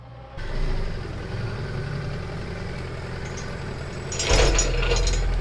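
A mechanic works a ratchet to remove a motorcycle wheel, with a steady mechanical hum in the background and a burst of sharp, clattering ratcheting clicks near the end.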